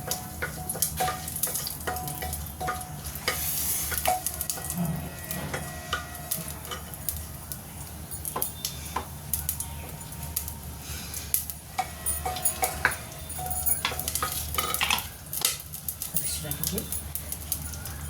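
Crushed cardamom crackles and sizzles steadily in hot oil in a home kitchen, with continuous close frying spatter and occasional stirring clinks while a voice talks over it.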